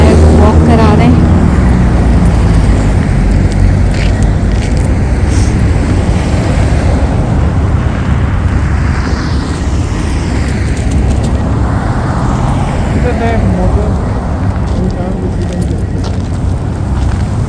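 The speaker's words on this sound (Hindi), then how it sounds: "ट्रैफिक आ रही है" Road traffic on a snowy winter street in Winnipeg, a loud, steady wash of passing cars and heavier vehicles that swells and fades continuously, with voices faintly present underneath.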